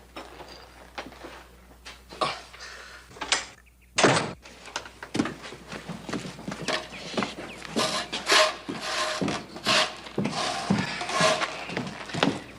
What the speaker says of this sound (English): He's outside sawing wood.